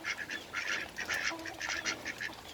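Ducks give a run of repeated rasping quacks in an uneven rhythm, fairly faint and alone without talk.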